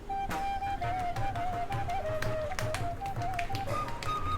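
Soft rhythmic patting of paruppu poli lentil-filled dough being flattened by hand on a banana leaf, a steady series of light taps under a faint continuous background tone, with no talk.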